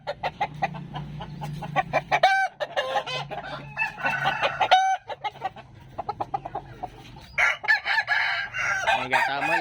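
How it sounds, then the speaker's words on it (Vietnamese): A young American Peru rooster, a gamefowl of about 3.5 kg, crows loudly twice in long drawn-out calls, with repeated near clucking and cackling between and after the crows. "gà tơ mới lớn, 3 kg mốt, có bầu dìu lớn"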